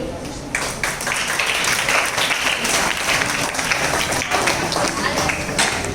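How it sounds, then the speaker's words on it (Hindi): Audience applause greets performers at a Hindi Diwas stage event, a loud, sustained patter of many clapping hands that starts suddenly and keeps on, with voices mixed faintly into the din. "हिंदी भाषा में अपना योगदान दिए कुछ चिन्ह और अक्षरों को तालियों के साथ मंच पर आमंत्रित करना चाहूंगी"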